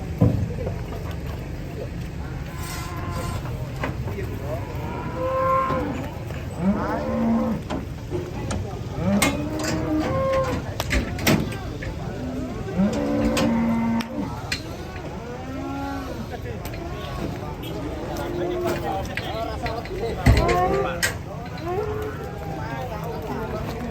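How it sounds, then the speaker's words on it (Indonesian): Banteng cattle on a farm low and moo repeatedly at varying distances over a noisy outdoor background, with people talking and occasional hoof and vehicle sounds. "Datangan sapi banteng guys ini guys"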